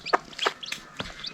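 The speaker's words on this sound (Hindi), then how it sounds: "तो आप देखो इधर इसके अंदर छोटे छोटे मुर्गियों के बच्चे हैं भैया।" Hens and small chicks in a village coop in Nepal give a few short clucks and chirps, close by and separated by brief pauses.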